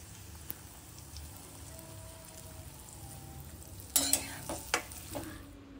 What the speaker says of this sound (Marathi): आणि आता ही भेंडी आपण ह्या लसणामध्ये घालायची आहे आणि मस्तपैकी परतून घ्यायची आहे.